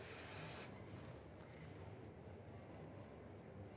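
A short burst of hair spray sprayed onto hair, a crisp hiss lasting about half a second, then quiet room tone.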